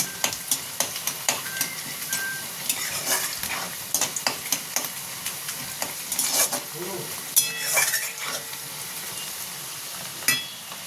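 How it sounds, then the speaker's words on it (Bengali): Onions frying in oil in a pan for chicken keema, with steady sizzling and repeated scraping clicks of a spoon stirring them, close up and with no talk. "দেখুন আমার পেঁয়াজটা লাল লাল ভাজা হয়ে গেছে।"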